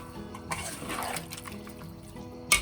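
Soy sauce is poured over tofu in a bowl, giving soft, close liquid splashing and trickling, with a short burst near the end.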